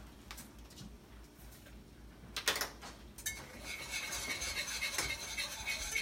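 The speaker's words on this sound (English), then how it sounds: "we are going to add our flour and our rub and whisk it until the flour is dissolved" Flour and rub are whisked in a non-stick pan, with soft, quiet scraping and light ticking strokes that grow into a continuous hiss of whisking, close but faint, with no talk.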